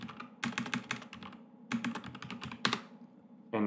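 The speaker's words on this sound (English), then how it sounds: "Let me just type it." Bursts of quick, crisp keystrokes on a computer keyboard while a command is typed at a terminal, separated by short pauses, close and clear with no talking.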